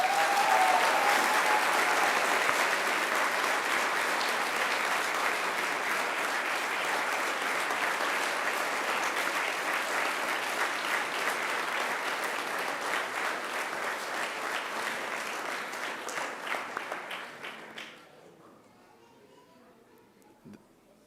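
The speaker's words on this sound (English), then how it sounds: "And now I invite you to give them a mighty round of applause." Graduates at a Macquarie University graduation ceremony applaud their families and friends, a dense sustained round of clapping from a large crowd in a hall that fades out near the end.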